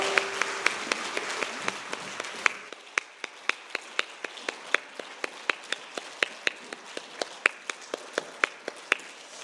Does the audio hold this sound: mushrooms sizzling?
no